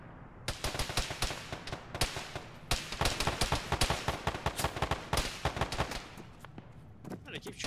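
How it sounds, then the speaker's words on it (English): Rapid video game gunfire in ShackTac, dense bursts of automatic shots cracking back and forth almost continuously, loud and close, with a brief pause near the start and scattered voices underneath. "Oh, they keep shooting at us."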